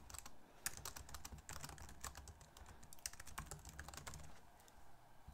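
Rapid typing on a computer keyboard while entering a short post title in WordPress, with steady close-up key clicks in an irregular rhythm and no talking.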